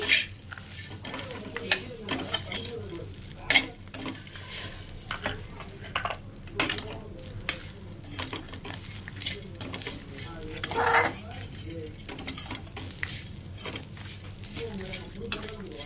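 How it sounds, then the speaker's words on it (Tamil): Chana dal and urad dal stirred and fried in a pan for chutney, with a steady spatula scraping and clinking against the metal over a soft sizzle, some of the scrapes sharp and close. "நல்லா பரட்டி விட்டுருங்க. நல்லா கலந்து விட்டுருங்க"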